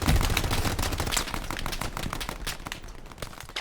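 Dense rapid gunfire in the WWII shooter Hell Let Loose, many overlapping sharp shots crackling continuously at moderate distance with no voices.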